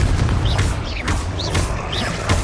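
Hogwarts Legacy combat with Confringo and Bombarda explosion spells going off in rapid succession, several booming blasts with crackling bursts and whooshes over steady game noise, loud and close.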